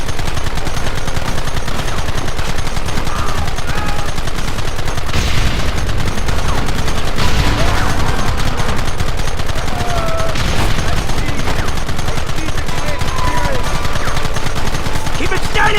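Rapid bursts of gunfire in the Red Dead Redemption video game, loud and continuous machine-gun volleys with booming shots layered over a dense battle din.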